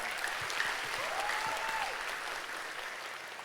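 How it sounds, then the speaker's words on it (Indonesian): Audience applause at a talk on Indonesia's development, a steady wash of clapping at moderate level that fades slightly toward the end, with a faint voice briefly audible underneath. "tepuk tangan buat teman-teman semua"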